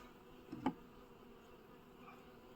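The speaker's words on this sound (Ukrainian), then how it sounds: "Ці шершні зараз вже літають." Hornets flying around a bee apiary, one brief buzzing pass that swells close by and then fades, over a faint, quiet outdoor background.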